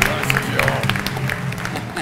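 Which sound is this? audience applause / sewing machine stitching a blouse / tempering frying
audience applause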